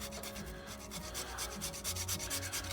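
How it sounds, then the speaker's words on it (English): Black truffle grated over a plate of penne with mussels and cream sauce, giving a steady close rasping scrape in quick repeated strokes with no talking. "here I have some black truffle, which I'm going to go ahead and grate"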